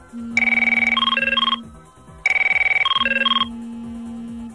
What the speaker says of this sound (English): that's one of the many ringtone settings from an old Merlin telephone system